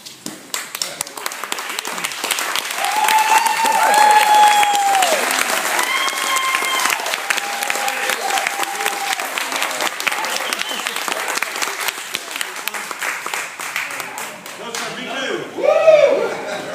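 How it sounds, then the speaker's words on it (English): A crowd at a high school reunion breaks into sustained applause, many hands clapping together in a dense, steady patter that swells, holds, then fades near the end. "we'd like to honor you with a round of applause"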